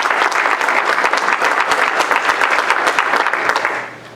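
A church congregation applauding during a Catholic service, loud sustained clapping from many hands filling the room, steady throughout and tapering off at the end.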